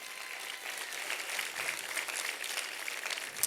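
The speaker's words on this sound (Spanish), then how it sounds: "Si tú lo crees, da una mejor ofrenda de aplausos." A church congregation applauds, a faint and steady wash of many hands clapping at a distance that holds evenly for several seconds.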